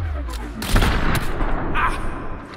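Video game gunfire during a firefight near a van: a dense, loud burst of shots and booming rumble, up close and continuous for a couple of seconds.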